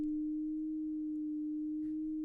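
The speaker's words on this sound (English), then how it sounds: "start off with just a sine wave, and it's got a longer attack, so it fades in quite nicely" A steady synthesizer sine tone, set with a long attack and release for a lo-fi beat, holds one pure pitch throughout at moderate level with no voices.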